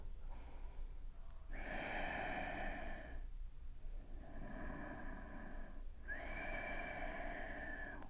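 Slow, deep breathing while holding a yoga sphinx pose, long airy inhales and exhales through the nose, close and quiet, three drawn-out breaths with pauses between.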